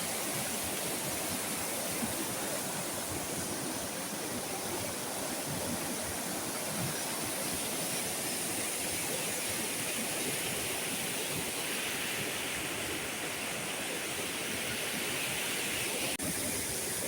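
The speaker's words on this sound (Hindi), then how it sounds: "गाड़ इतनी ज़्यादा उफान पर है क्या ही बताऊं।" A mountain stream, swollen into a river after a day of heavy rain, rushes past village fields with a constant broad roar of water that stays steady and unbroken throughout, with no voices.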